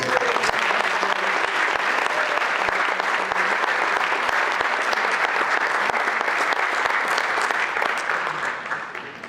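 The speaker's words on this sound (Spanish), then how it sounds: "pido un aplauso también para el fotógrafo oficial del Foro San Antonio, Agustín San Blas." Loud, continuous audience applause at a forum event, a dense wash of many hands clapping that holds steady for about nine seconds before easing off slightly near the end.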